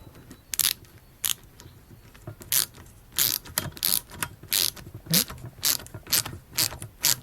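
A metric 10 by 1.5 mm thread tap is run into a bolt hole on a 1995 Jeep Cherokee during a water pump replacement, giving a series of sharp ratcheting clicks in irregular bursts, close and fairly quiet with no talk.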